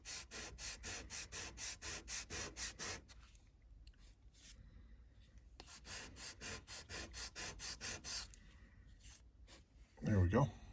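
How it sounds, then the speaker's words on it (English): Rhythmic rasping of 220-grit sandpaper worked over a wooden craftsman kit piece to shape a bevel, in regular back-and-forth strokes with a pause mid-way, then a short louder knock at the end. "I'm using 220 sandpaper, by the way"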